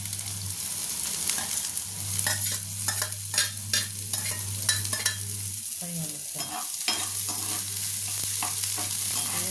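Green chillies sizzle in hot oil with browned onions in a pan for a stuffed capsicum dish, a steady close frying hiss broken by repeated stirring scrapes and a low hum, with no talking.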